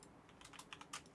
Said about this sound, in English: Also, if you guys hear my keyboard,